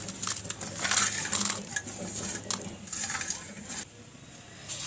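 Fried potato sticks are tossed with fried peanuts and curry leaves, producing dry crunchy rustling and light metallic clinks from a utensil in a bowl, close and fairly steady.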